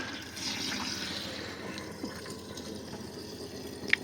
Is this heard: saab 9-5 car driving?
no